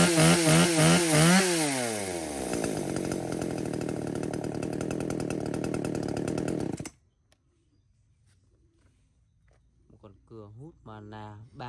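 Husqvarna chainsaw revving hard, then holding a loud, steady high-pitched whine for several seconds before cutting off abruptly; near silence follows, then a person speaks.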